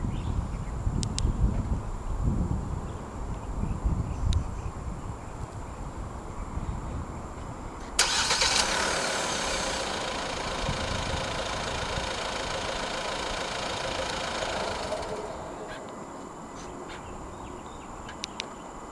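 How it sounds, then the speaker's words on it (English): A Hyundai Staria 2.2 CRDi diesel starts remotely with a sudden burst around the middle, then settles into a steady, fairly quiet idle that drops lower after several seconds, with faint background clicks. "The STARIA in Malaysia does come standard with a remote engine start system."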